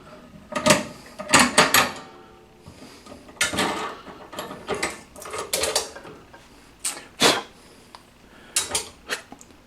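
Flare tubing kit clamped and tightened down to form a double flare on metal brake line: a series of sharp metallic clicks, ratcheting rasps and clanks in irregular bursts, close and fairly loud with brief pauses between.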